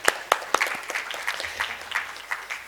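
An audience at a conference session claps for a speaker, a few sharp early claps spreading into a moderate, uneven round of applause that stays fairly close.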